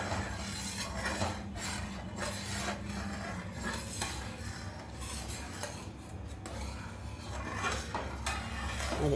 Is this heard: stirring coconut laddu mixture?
yes